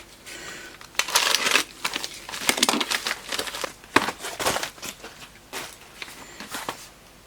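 Tough, rigid plastic packaging from a mailbag parcel being cut and torn open with a knife, close up: loud crinkling, crackling and snapping in uneven bursts that go on throughout, with no voices.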